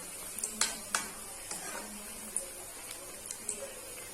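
Carrot vada frying in hot oil gives faint, scattered crackles and sharp little pops over a quiet sizzling hiss, with no steady rhythm.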